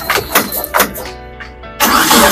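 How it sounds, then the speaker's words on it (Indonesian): A 2003 T120SS pickup has its engine cranked with a few rough bursts before it catches. The engine then settles briefly and revs up into a loud, close running roar. "Silakan langsung aja kita tes mesinnya"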